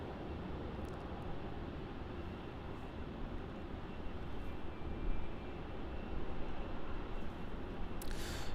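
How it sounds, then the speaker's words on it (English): A Virgin Australia Boeing 737 airliner at Melbourne Airport produces a steady, broad jet roar that holds at a constant loud level throughout, distant and continuous with no talk. "this Virgin Australia 737 on your screen is going to be heading off to Perth as VA 685"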